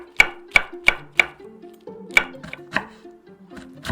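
A knife chops Cheongyang chili peppers finely on a cutting board in crisp, evenly spaced strokes, about ten sharp knocks close up with no talk.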